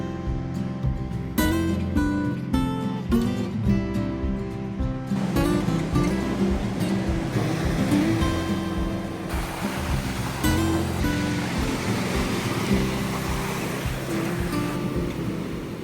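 Ocean waves on an Oregon coast beach, a continuous broad wash of surf with swelling rushes, heard close. Brief harsh rustling and clattering come early on, and then a steady roar follows.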